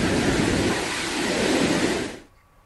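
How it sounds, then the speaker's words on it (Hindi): Heavy rain pours down at Sundha Mata, a loud, dense hiss that continues steadily and then drops away sharply near the end, with no voices. "सुंधा माता में जोरदार बारिश।"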